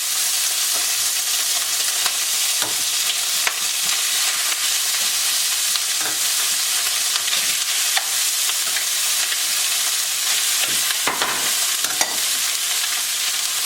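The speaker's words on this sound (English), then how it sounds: "So we have a hot pan with a tablespoon of oil, ready to go. We're gonna add our carnitas." Carnitas frying in a hot pan with a tablespoon of oil, a loud, steady, close sizzle throughout, broken by occasional stirring scrapes and pops.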